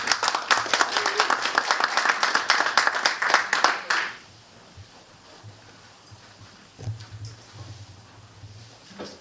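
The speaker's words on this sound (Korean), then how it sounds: "뜨거운 박수 부탁드리겠습니다." An audience at a lecture hall applauds to welcome a guest speaker: dense, lively clapping for about four seconds, then it stops abruptly, leaving a quiet room with faint low thumps.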